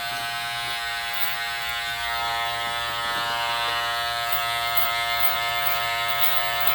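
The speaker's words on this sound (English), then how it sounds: "I'm just looking to hear small hairs being cut" Electric hair clippers cutting small hairs during a haircut, a steady close, loud buzzing hum that continues without a break for several seconds, with no speech.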